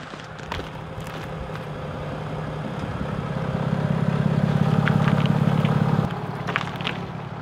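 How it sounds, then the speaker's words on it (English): A vehicle engine rumbling as it drives over an RV sewer hose on pavement, rising to a steady low drone for a few seconds and then fading, with scattered clicks around it. "So let's now do the drive over, run it over test"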